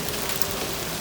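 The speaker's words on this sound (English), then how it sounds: "This is some pretty good rain, everybody. It almost, holy shit, it's hail." Heavy rain changing over to tiny pea-sized hail, a dense, steady wash of close patter and hiss that stays loud and even throughout, with no voices.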